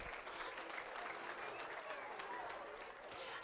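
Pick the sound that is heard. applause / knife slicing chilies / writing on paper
applause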